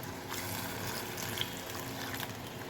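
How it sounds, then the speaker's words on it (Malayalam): Stock poured into a pan on the stove gives a steady, soft liquid splashing and trickling that continues evenly throughout, with no voices. "ഇതിൻ്റെ സ്റ്റോക്ക് ഒഴിക്കാം."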